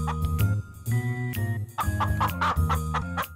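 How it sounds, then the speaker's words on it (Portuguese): Cartoon chickens cluck in quick, repeated bursts alongside a light jingling tinkle, a busy, close, steady clucking with no talk over it. "Um pouco depois, Rapunzel ouviu sons de cacarejar."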